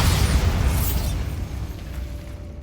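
A Bombarda blasting spell goes off in the video game Hogwarts Legacy, a loud booming explosion with a bright burst that rumbles and fades away over a couple of seconds.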